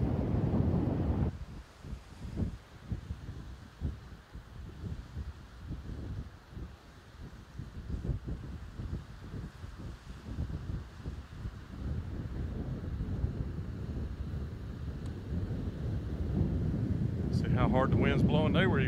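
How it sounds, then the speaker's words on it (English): Strong wind buffets the microphone at Folly Beach, South Carolina, a steady loud roar with gusty low rumbling throughout, rising toward the end, with faint voices underneath. "How hard the wind's blowing, they were even having trouble going forward"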